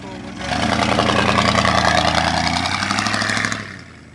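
A 1990 Ford F-150 four-wheel drive pickup's engine idles steadily and close by, a rough, even rumble holding for about three seconds before cutting off.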